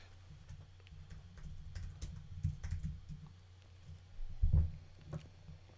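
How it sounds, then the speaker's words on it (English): Computer keyboard typing: a loose run of soft key clicks, fairly quiet and close, with a small burst of heavier taps near the end, no voices. "I'm typing on the wrong keyboard again."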